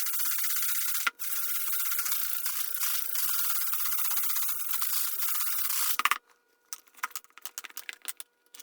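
Homemade Tannerite powder shakes hard in a container, a steady loud gritty rattle for about six seconds, followed by a few scattered faint rustles.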